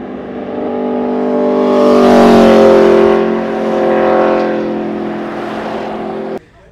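An Aprilia RSV4 RF superbike engine revs hard through a loud aftermarket exhaust, pitch climbing to a peak then easing and rising again before cutting off abruptly, very close and dominant.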